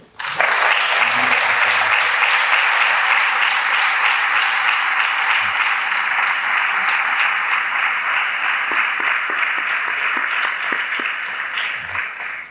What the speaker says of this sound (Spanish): para quien pido una fervorosa ovación